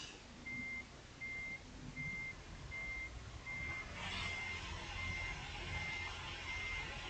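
Reversing alarm beeping in a steady repeating rhythm from a Peterbilt truck in American Truck Simulator, over a low idling engine rumble, with a brief air hiss midway.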